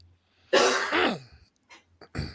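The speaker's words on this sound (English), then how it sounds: "Cause I'm gonna keep coughing on the stream." Two harsh coughs close to the microphone, followed by a couple of softer, short throat sounds after a pause.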